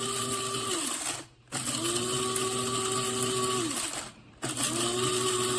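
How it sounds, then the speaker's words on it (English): Wancle electric one-touch coffee grinder grinding coffee beans: a loud, steady motor whine in two long bursts with a brief drop between them, the pitch settling as the beans break down. "when you do, it starts grinding the beans"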